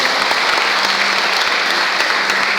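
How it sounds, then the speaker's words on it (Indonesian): Loud, dense congregation applause during a Pentecostal church service in Pontianak, continuous clapping close and full throughout. "Tepuk tangan buat Tuhan."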